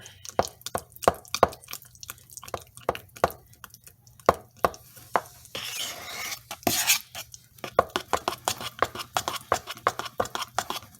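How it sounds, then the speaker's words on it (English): Spoon scraping and clacking repeatedly against a bowl while a peanut butter brittle mixture laced with Kraken rum is stirred, a busy close rhythm of sharp knocks with a brief smoother swish in the middle. "Get it stirred real good."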